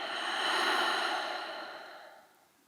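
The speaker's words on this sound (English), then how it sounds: "Take a final breath in and a final breath out." A single slow, audible breath during a yin yoga session, a soft airy exhale that swells then gradually fades, close and alone with no talking.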